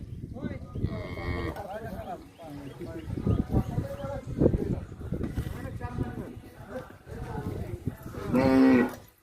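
A cow moos a few times, with a louder drawn-out moo near the end, amid people talking close by.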